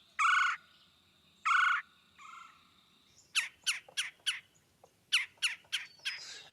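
Red-bellied woodpecker calling in a New York City park: two rolling churr notes, then a series of sharp, quick chip calls in two bursts, moderately distant and clear against a quiet background.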